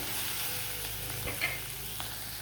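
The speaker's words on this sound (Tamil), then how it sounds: "இது இப்படியே ஒரு நிமிஷம் அப்படி வதங்கட்டும்" Onion and a green chilli sauté quietly in a pan for a cabbage and carrot poriyal. A soft, steady sizzle runs throughout, with a few faint clinks from the pan.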